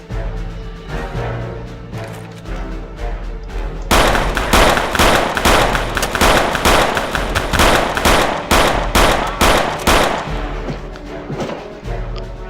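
Rapid bursts of loud gunfire crack in quick succession over steady game music in Return to Castle Wolfenstein, the shots clustering densely after a quieter opening.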